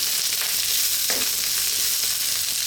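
Small-cut chopped carrots fry in a pan for kikiam fried vegetable rice, giving a steady close sizzle with light stirring scrapes throughout and no talking.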